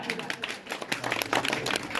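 Applause from an audience at a ward-level political gathering, dense patter of clapping mixed with crowd noise and voices throughout, fairly close and steady.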